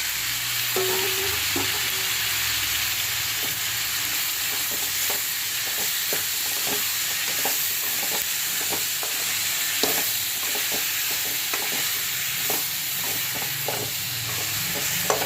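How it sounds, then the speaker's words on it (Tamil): Green chilies, tomato and garlic sauté in a pan, a constant loud sizzle broken by repeated spatula scrapes and stirs at an uneven rhythm, close up with no speech. "நல்லா வேகிற வரையும் வதக்க வேண்டியது."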